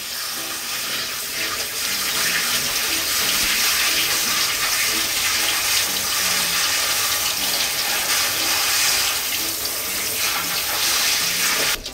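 Tap water runs steadily over napa cabbage leaves being rinsed in a kitchen sink, a loud, even splashing rush that continues for the whole stretch.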